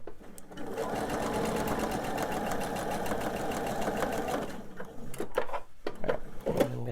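A sewing machine stitches a seam on a candy dish pillow, its motor whirring in a steady, fast, close run for about five seconds before stopping, followed by a few handling clicks and knocks.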